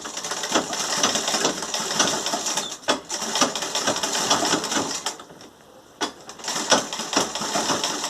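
A sewing machine backstitches fabric for a fabric door draft stopper, its dense mechanical whir running steadily with brief pauses and restarts, close and fairly loud with no talk.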